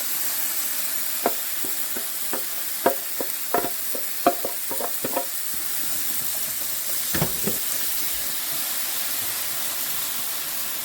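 Pureed tomatoes land in a pan of cooking onions, ginger and garlic, setting off a steady close sizzle with scattered spoon clacks and scrapes that thin out midway, then a brief louder hiss.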